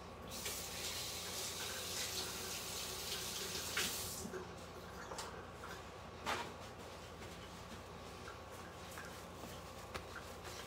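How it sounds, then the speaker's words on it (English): Tap water runs into a kitchen sink while someone washes their hands, a faint, steady hiss for about four seconds that then cuts off, leaving small clicks and splashes. "let me get my hands washed."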